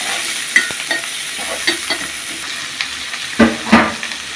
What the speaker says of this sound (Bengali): পেঁয়াজ কুচি দিয়ে দিলাম। একটু লাল লাল করে ভাজে নিতে হবে।